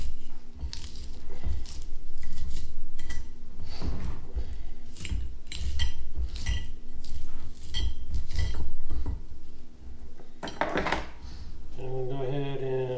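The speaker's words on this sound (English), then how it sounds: "I'm going to go ahead and take some iceberg lettuce, and I'm just going to go ahead and chop it up a little bit" A knife chops iceberg lettuce for rainbow trout tacos, making rhythmic crisp cuts against a board with light clinks of utensils, ending with a brief tonal sound.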